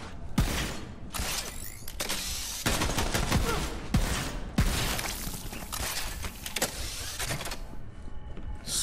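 Gunfire from the video game Borderlands 3 rattles out in repeated rapid bursts and sharp cracks, dense and fairly close, broken by brief pauses with no talk over it.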